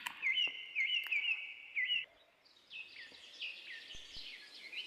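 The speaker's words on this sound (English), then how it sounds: "And some birds are chirp." Birds chirp in trees beside a farm well in India, bright repeated tweets close by, followed by a fainter trilling call in a quiet outdoor setting.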